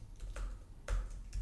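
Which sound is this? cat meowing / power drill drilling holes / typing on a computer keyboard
typing on a computer keyboard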